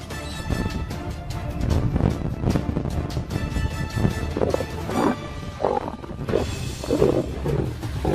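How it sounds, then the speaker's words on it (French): A wild lion in a forest, fighting a leopard over prey, gives repeated deep, rumbling roars and growls. They come in uneven bursts against a low, noisy background. "De l'ombre, un lion surgit, attiré par le bruit et la promesse d'un repas facile."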